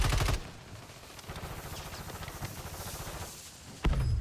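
Sustained rattling automatic fire in Warzone 3, moderately loud bursts running for several seconds, with a sharper close shot near the start and another near the end.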